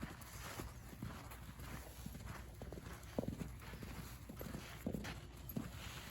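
A horse cantering under a rider in a farm arena, hooves thudding in a quick, rolling three-beat rhythm at close range, fairly steady throughout.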